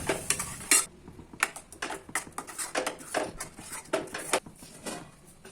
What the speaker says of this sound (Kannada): ಮಿಕ್ಸಿ ತೊಳೆದು ಸ್ವಲ್ಪ ನೀರನ್ನು ಸೇರಿಸಿ ಚೆನ್ನಾಗಿ ಮಿಕ್ಸ್ ಮಾಡ್ಕೊಳ್ಬೇಕು